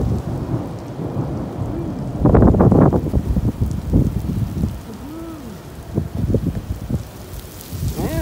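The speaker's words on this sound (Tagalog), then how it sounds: "Ayan na guys. Ayan ang ulan. Oh, lakas." Steady heavy rain pours down while thunder rumbles loudly, with brief voices heard over the downpour, in Saudi Arabia.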